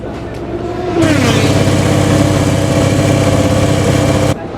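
An Aprilia RSGP MotoGP racing bike in a video game sits idling, then its engine note jumps to a loud, steady, buzzing rumble that holds for a few seconds before dropping back abruptly.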